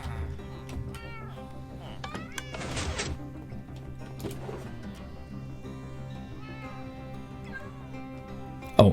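A cat meows now and then in the Minecraft survival world, version 1.20.2, set against game ambience with a few soft sharp sounds and a louder pop at the very end.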